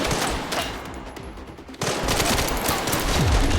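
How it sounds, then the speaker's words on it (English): Rapid gunfire aimed at the player in Resident Evil: Requiem, a dense, loud burst of shots that breaks off briefly and then resumes heavier and continuous. "who's shooting me?"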